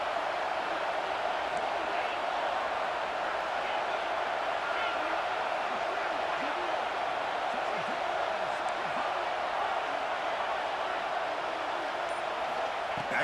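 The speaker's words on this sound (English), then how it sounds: "here comes the noise. This crowd is trying to inspire this defense to make a big red zone stop." A packed stadium crowd roars in the EA Sports College Football 26 video game, a dense, steady wall of noise that holds loud and unbroken for the whole stretch.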